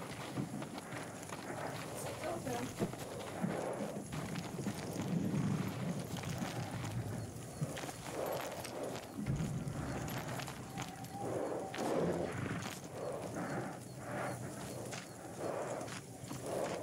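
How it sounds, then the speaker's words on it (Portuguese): Samurai horses in the video game Ghost of Tsushima, hooves clip-clopping and shuffling in a busy game soundscape, moderate and continuous, with people talking throughout. "São cavalos de samurai."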